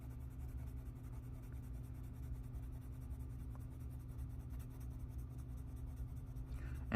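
A colored pencil burnishes paper under heavy pressure in big circles, making a steady, soft scratching against a low background hum.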